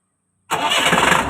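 A mixer's engine fires up abruptly after a short silence once its switch is turned, then settles straight into a loud, close, steady running drone.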